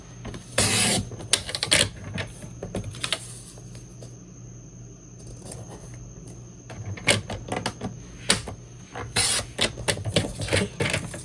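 Card stock is cut into pieces for a half-sheet bag box with a paper trimmer, sharp scraping cuts and clacks coming in short irregular bursts between quieter stretches of handling.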